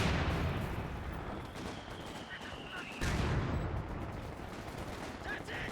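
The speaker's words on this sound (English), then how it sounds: "there is mortar barrage already, but somewhat missing the target" Mortar barrage in a tactical war video game, with repeated booming impacts and gunfire crackling through a dense, continuous battle din, while a commentator talks over it.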